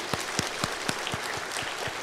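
Church congregation clapping together during a Sunday worship service, a steady dense wash of applause with a few sharper claps standing out, sustained for the whole moment without voices.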